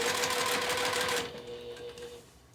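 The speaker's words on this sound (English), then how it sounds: "I will just do a couple of extra back and forth stitches here" A sewing machine stitches in a rapid, close mechanical whir for about a second before slowing and winding down into quiet.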